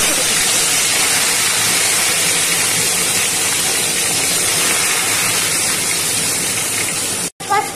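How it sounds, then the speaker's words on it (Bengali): Fish for a mustard curry hits hot oil in a pan, giving a loud, steady, close sizzling hiss that cuts off abruptly near the end. "তেলটা গরম হয়ে গেছে। এবার আমি এর মধ্যে দেখুন মাছ"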